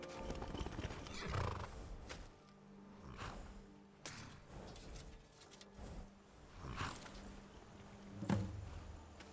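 Horse hooves clip-clopping and a whinny in the video game Skyrim, heard as a run of distinct hoofbeat bursts spaced a second or two apart, fairly close and clear, with little other sound.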